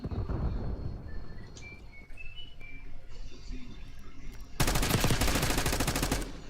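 Gunfire in an online shooter game: scattered shots and whistling effects at first, then a dense, loud burst of rapid automatic fire in the final two seconds, with no talking.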